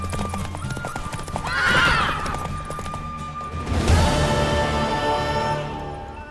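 Horse in The Witcher 3: loud, close hoofbeats thud under a swelling score, with a high neigh near the start and a heavy crash-like surge midway as the galloping carries on.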